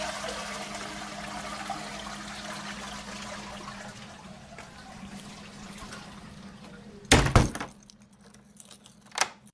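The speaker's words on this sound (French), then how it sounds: "il faudra tirer la chasse d'eau" A toilet flushes with a steady rushing and gurgling of water that fades, followed by sharp clattering knocks near the end.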